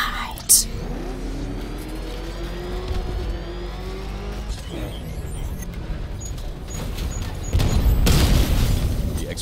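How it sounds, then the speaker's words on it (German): An explosion in Batman: Arkham Knight knocks out the main cannon: a sharp boom early on, vehicle-like engine drones in between, then a louder, rougher blast of noise near the end. "Die Explosion hat die Hauptkanone ausgeschaltet."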